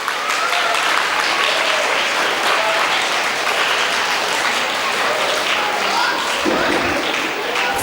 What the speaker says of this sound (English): All of you, please give a cheer as they step on stage.